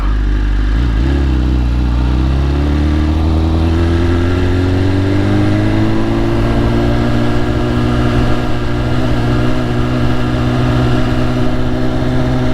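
BMW S1000RR sport bike engine running loud and steady with a close, continuous drone whose pitch rises gradually as it revs, heard alone without talk.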